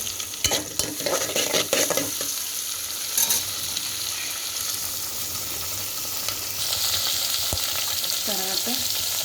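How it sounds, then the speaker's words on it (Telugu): Tomatoes and green chillies fry and sizzle in a pan for a dried prawn, brinjal and okra tamarind curry, with steady hiss and occasional stirring scrapes and clinks. "బాగా వేగాక టమాటాలు వేసుకున్నాను."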